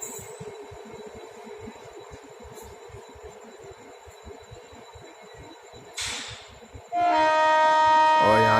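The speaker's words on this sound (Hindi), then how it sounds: "और यहाँ से हमारा भी हॉन्क हो गया स्टार्ट।" Riding the Chetak Express at night near Phulera Junction on the run from Delhi to Ajmer, the wheels clatter rhythmically on the rails until a loud, sustained train horn suddenly blares close by near the end.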